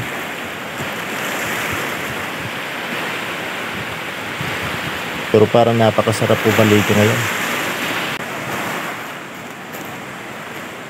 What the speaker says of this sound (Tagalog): parang medyo malakas po yung alon